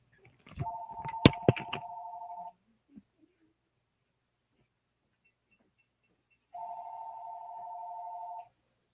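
A phone ringing with an incoming spam call, two sustained electronic ring bursts a few seconds apart, the first mixed with close clattering handling noise, the second clean and steady in a quiet room.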